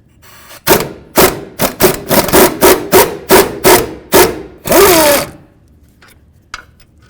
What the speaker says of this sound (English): I'll use my 17mm socket and a swivel and carefully start removing each of the bolts.